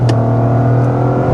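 A 2025 Toyota GR Corolla with automatic transmission accelerating hard on a track with traction control off, its engine holding a loud, steady, droning pull close to the microphone, with a brief high click near the start.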